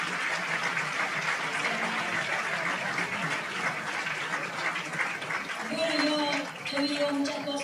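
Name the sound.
audience applause for the speakers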